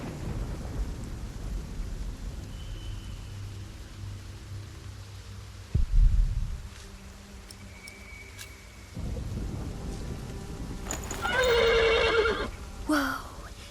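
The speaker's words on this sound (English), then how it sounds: "The horse nearly woke the guard." A horse whinnies loudly near the end in the video game Filary Ziemi, a shrill rising neigh, after a quiet stretch with thunder rumbling and rain in the background.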